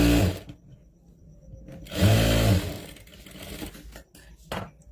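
A sewing machine stitches tucks on a crop top in bursts, its motor whirring loudly near the start and swelling again midway, with short pauses and handling noise in between.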